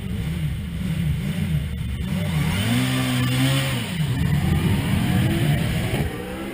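A hill climb race car launches off the start line at Gurston Down, its engine revving in rising, wavering pitch sweeps over a steady drone, loud and continuous for several seconds.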